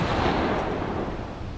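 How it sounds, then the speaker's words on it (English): Burst of gunfire in the indie horror game Dagon, a single loud broadband blast that decays over about a second and a half with no talk over it. "That was gunshots."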